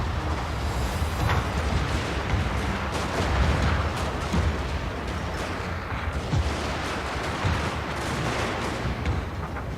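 Rifle volleys in a Total War: Shogun 2 Fall of the Samurai battle: dense, continuous crackling gunfire rolls on without pause at a fairly even, distant-sounding loudness, with no voices.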